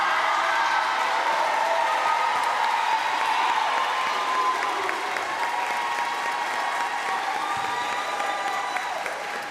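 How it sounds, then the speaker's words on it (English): A large audience at a 2024 high school commencement applauding the graduating class, dense sustained clapping from a big crowd filling the space, with faint cheers mixed in, steady throughout. "get a round of applause to the class of"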